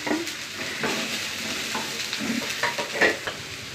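Vegetables sizzle and crackle in hot coconut oil with mustard seeds, with steady frying hiss and scattered pops and stirring scrapes close up.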